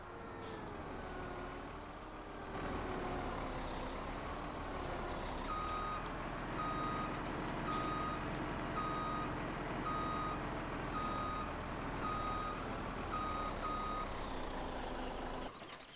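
In Farming Simulator 17, a truck engine rumbles steadily while a regular series of reversing beeps sounds over it, evenly spaced and moderately loud.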